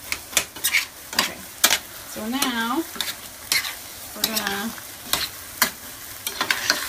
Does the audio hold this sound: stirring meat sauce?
yes